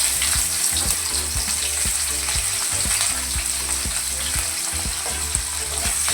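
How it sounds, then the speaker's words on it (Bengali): Chopped onions with five-spice seeds frying in oil in a pan, giving a continuous close sizzle broken by regular scraping strokes as they are stirred. "পেঁয়াজটা ভাজা ভাজা হয়ে গেছে"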